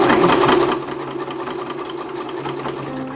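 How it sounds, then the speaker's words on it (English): A sewing machine running steadily and close by as it stitches back over a face mask seam, a loud, rapid mechanical whirr that stays continuous throughout. "I'm just going to sew it all the way back over the same"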